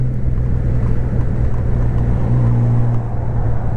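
A Honda motorcycle rides along a daily commute, a steady low engine drone mixed with heavy wind rush on the microphone, loud and continuous with a brief pitch rise near the end.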